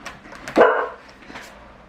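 A single short dog bark up close, one sharp yelp over quiet background.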